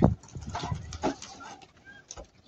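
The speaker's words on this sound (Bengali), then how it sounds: "দেখেন কবুতর আর কবুতর এখানে।" Pigeons kept in a loft in Kuwait coo softly nearby, a few short, low murmuring calls scattered across a couple of seconds against a quiet background.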